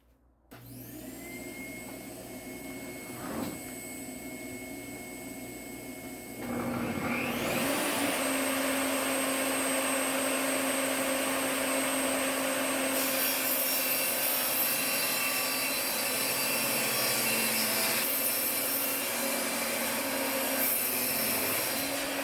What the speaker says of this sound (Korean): 재단기 조기대를 30에 맞춰 놓고 예, 잘라 보도록 하겠습니다